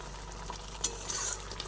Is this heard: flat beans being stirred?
yes